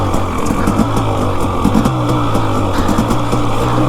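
Two-stroke motorcycle engine heard while riding, a loud, steady, buzzing drone with a constant tone and no break, close to the rider and without speech.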